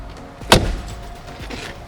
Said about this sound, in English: Listen to these doors.